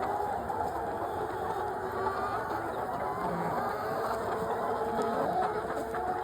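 A laying flock of chickens clucks and murmurs close by while being fed soldier fly grubs, a busy, continuous chorus of soft clucks without any talking.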